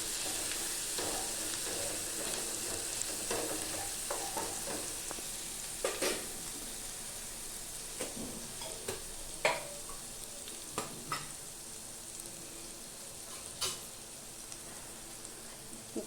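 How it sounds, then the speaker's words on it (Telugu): Spices sizzle steadily in a hot pan while being made into butter paneer, with a continuous soft frying hiss broken by scattered scrapes and clicks of a spoon stirring against the pan. "కొంచెం పచ్చివాసన పోయే వరకు వేగించుకుందామండి."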